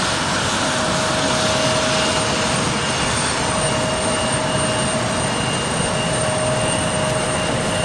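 Jet engines of a Boeing 767 at an airport run in a loud, continuous roar with a high steady whine, close and unbroken, with no voices.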